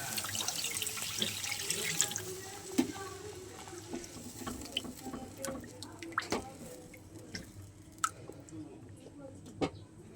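A little water added to a well-fried spice paste for a fish curry, heard as soft pouring, dripping and bubbling in the pan over a faint background hum.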